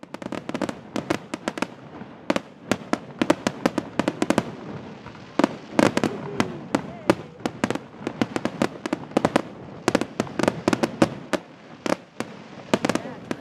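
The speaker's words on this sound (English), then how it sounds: "whole bunch of fireworks like this coming up from people's backyards all over the place" Many sharp Fourth of July backyard fireworks bangs and crackles go off in rapid, irregular bursts, some near and loud, others fainter in the distance.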